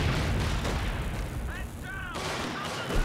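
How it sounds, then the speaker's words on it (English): Mortar pit firing in a WWII strategy video game, heavy booming artillery blasts and rumbling explosions that overlap in a loud, continuous battle din, with faint whistling shells streaking past. "let the mortar pit doing the heavy lifting"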